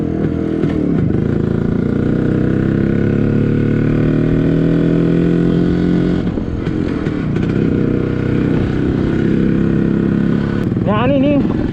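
A Yezdi CL2 motorcycle fitted with an Allied CDI pulls away in first gear, its engine loud and close with a steady throbbing drone and rising pitch, a short dip in the middle, and a voice talking over it.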